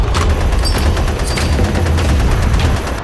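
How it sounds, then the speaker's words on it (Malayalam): Dense bursts of gunfire crackle throughout as a loud sound effect, rapid overlapping shots with heavy low booms and no pauses, with no talking. "നമുക്ക് മൊത്തം ഇങ്ങനെ വെടി പോകുന്ന എഫക്റ്റ് ഇടണേ"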